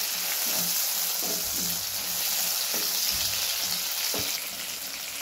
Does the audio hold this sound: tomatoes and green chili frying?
yes